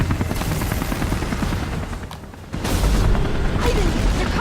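Helicopter in the video game Beyond: Two Souls, a loud continuous rotor and engine roar with a rumbling low end that swells louder partway through, heard over game action with no talk.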